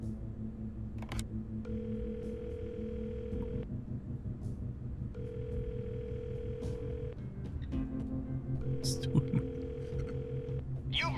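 In the detective adventure game 3 Minutes to Midnight, a phone line gives three long, steady electronic ringback tones with pauses between them, quiet and faint over low background music.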